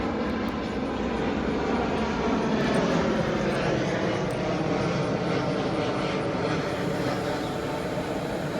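DJI Mavic Air drone switched on nearby, giving a steady, even electronic whir and hum that holds at a constant level throughout with no talking.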